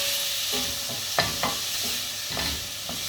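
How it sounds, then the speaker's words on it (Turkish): Boiled peas and other vegetables sizzle in a hot pan as they are sautéed. A steady frying hiss runs throughout, with a few sharper clicks and scrapes from stirring, close up. "Bunlar da biraz kavrulsun."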